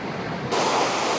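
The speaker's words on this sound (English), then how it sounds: "if you wonder why it's so noisy, it's pouring rain" Heavy rain pours outdoors as a dense, steady roaring hiss that swells louder partway through, with no voices.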